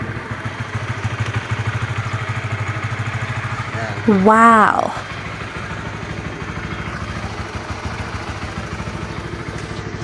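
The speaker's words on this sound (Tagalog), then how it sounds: "Itong motor na to gamit ko." A motorcycle idles steadily with a low, even putter, while a person speaks and gives a brief excited exclamation over it midway.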